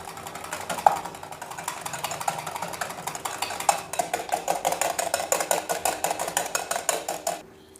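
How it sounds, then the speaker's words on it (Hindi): Cream being beaten by hand in a bowl with a whisk, a steady run of quick scraping, tapping strokes that grow more regular and vigorous, close and fairly quiet, with no talking. "ये मैं क्रीम लूँगी, ये मैं एक बाउल में डालूँगी और इसको अच्छी तरह से मैं बीट करूँगी"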